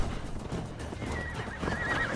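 A horse in Assassin's Creed Valhalla, its hooves clopping under a dense game soundscape, gives a brief whinny near the end.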